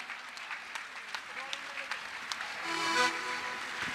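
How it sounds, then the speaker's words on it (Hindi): Faint, scattered clapping comes from a crowd at a Jain diksha ceremony, with a few distinct sharp claps and a slight swell toward the end beneath low background voices. "लगातार तालियां।"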